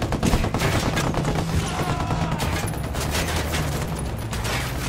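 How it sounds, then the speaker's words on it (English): Dense rapid gunfire in the video game Ghost Recon Wildlands, loud continuous bursts of overlapping shots throughout. "Firing!"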